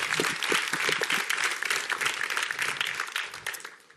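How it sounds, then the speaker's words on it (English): A live audience at a Robinhood keynote event claps in sustained, dense applause that stays loud and even before tapering off at the end. "Let's give him some applause and get him pumped up to come up here."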